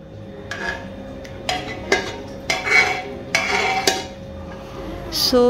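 Dishes and serving utensils clatter as home-cooked food, including chicken sabzi, is served for a dinner party of guests, with several sharp clinks and scrapes spread irregularly over a steady room hum.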